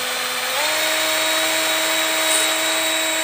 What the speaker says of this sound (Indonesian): baru diamplas lagi pakai amplas yang lebih halus